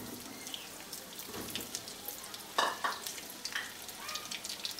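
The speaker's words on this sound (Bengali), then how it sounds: "এবারে তেলের মধ্যে আলুগুলোকে দিয়ে দিলাম ভাজার জন্য।" Potatoes frying in hot oil in a home kitchen, a steady faint crackle with scattered pops and stirring clatter, louder bursts of sizzle near the middle, no talking.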